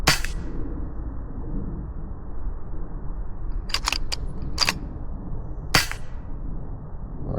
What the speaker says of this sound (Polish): To trzeba oddać parę strzałów niestety.